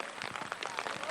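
Rain falling steadily on a baseball field during a high school game, a dense patter of drops filling the whole moment at an even, moderate level with no break.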